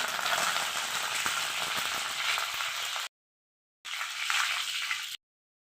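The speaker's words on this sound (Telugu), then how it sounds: "ఆయిల్ వేడైంది అవాళ్ళు జీలకర్ర వేస్తున్నా తర్వాత కరివేపాకు" Cumin seeds and curry leaves crackle and sizzle in hot oil in a pan, a loud, dense frying hiss that breaks off briefly and then resumes with no voices.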